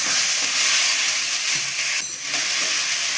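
Spiced, marinated meat sizzles in a covered pan, a steady bright hiss and crackle filling the clip up close with no talking.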